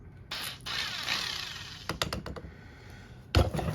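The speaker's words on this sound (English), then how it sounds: "Let's get our drill out." A power drill bores into a fatwood handle, a steady whirring grind that rises near 0.3 seconds and runs for over a second, followed by short bursts of drilling and clattering knocks.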